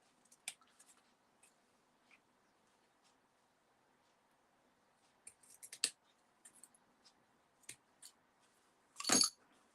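Small snips trim ribbon during card making, with a few sharp, quiet cuts scattered among faint handling clicks; the final snip is the loudest.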